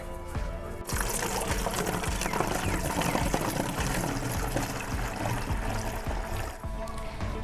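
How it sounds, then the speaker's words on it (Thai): Tobacco-leaf liquid is poured into a bottle, a steady close gurgling stream that starts abruptly near the one-second mark and runs continuously before tapering off at the end. "หลังจากนี้เราก็นำใส่ขวดไว้เลยค่ะ"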